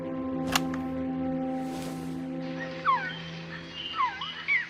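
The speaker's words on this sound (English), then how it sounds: "She went out into the jungle to record bird calls and stumbled upon this." A recorded bird call from the jungle in the video game Metal Gear Solid Peace Walker: several short, sweeping whistled chirps over a steady low electronic hum.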